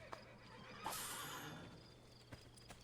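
A horse whinnies once at moderate distance in an Assassin's Creed game scene, a rising neigh over a quiet ambient bed with faint hoof or gear knocks around it.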